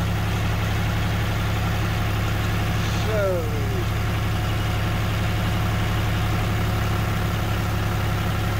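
A tractor's steady low engine idles close by throughout, with a person speaking briefly over the rumble.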